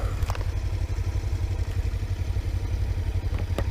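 A 2019 Suzuki V-Strom 250 motorcycle engine runs steadily with a low, even throb and some mechanical clatter, heard close while riding, with no talking.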